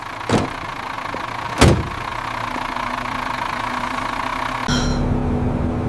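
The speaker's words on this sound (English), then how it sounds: "The bus is coming!" A bus engine idles steadily nearby while two sharp door clunks sound early, followed by a louder hiss and rumble near the end as the bus shifts or pulls away.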